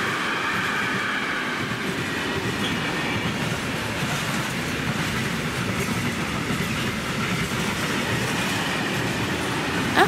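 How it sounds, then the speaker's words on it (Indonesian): A KRL commuter train to Rangkasbitung runs steadily, heard from inside the carriage as a continuous rumbling roar with faint wheel clatter and squeal, no talking. "Aku naik KRL tujuan Rangkas Bitung."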